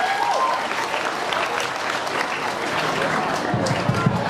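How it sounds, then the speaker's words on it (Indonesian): A school audience at a student council candidate debate claps in a steady, full round of applause that runs the whole time, with faint voices underneath. "Tepuk tangan sekali lagi untuk semuanya."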